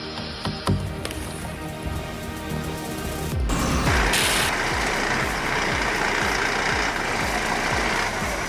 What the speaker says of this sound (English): A 480 series engine delivers steady torque, hauling massive logs out of the forest